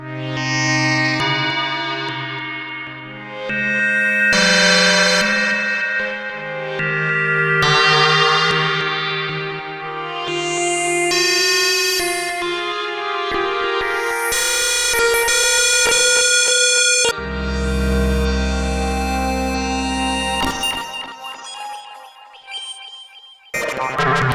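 Loud Arturia MicroFreak synthesizer tones with rich harmonics, layered notes swelling and repeating with reverb tails and delay echoes, shifting pitch throughout, no voices.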